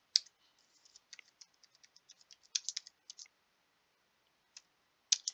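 Close computer keyboard keys tapped in quick irregular bursts as a note is typed during a wargame session, with short pauses and a final pair of firmer keystrokes; no voices.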